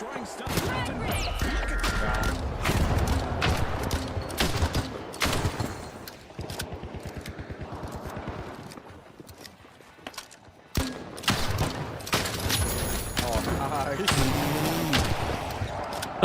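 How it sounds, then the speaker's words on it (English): Grenade launcher blasts in a video game tearing through a house, repeated loud explosive bursts and rapid gunfire-like crackles with brief lulls and a sharp impact near the middle. "Using grenade launcher."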